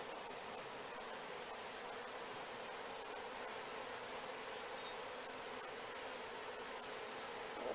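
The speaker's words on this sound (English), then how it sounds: "Brush these bees off a little bit." Honeybees swarming around an open hive during an inspection, a dense steady buzzing that fills the air evenly throughout, close and continuous, with no talk.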